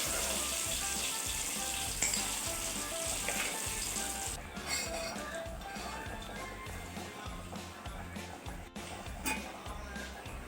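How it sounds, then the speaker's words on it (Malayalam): Mashed chana dal fries in hot ghee with a steady, close sizzle that runs continuously, sometimes stirred, while a voice speaks faintly underneath. "നെയ്യ് ചൂടായി വരുമ്പോൾ അതിലേക്ക് ഈ കടലപ്പരിപ്പ് ഇട്ട് കൊടുക്കുക"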